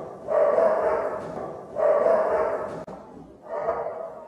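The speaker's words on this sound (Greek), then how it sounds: "αυτός είναι ο σκύλος τον οποίον πρόσφατα" A recently adopted dog gives three drawn-out barks or howls, each lasting about a second, with short pauses between them, close and fairly loud.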